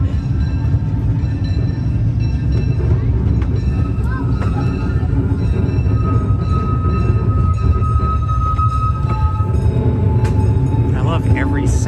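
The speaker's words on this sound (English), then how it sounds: "I love the sound of the wheels on the tracks, I love the rumble it makes." Disneyland Railroad train rolling along its tracks, a steady low rumble of wheels running continuously throughout, with some faint voices beneath it.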